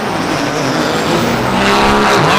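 A diesel truck in the 590 Super Street class spools up at the line of a desert drag race, a loud, dense roar that swells steadily in pitch with no voices over it.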